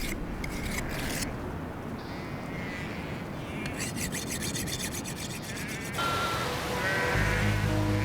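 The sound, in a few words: sheep bleating in Dagestan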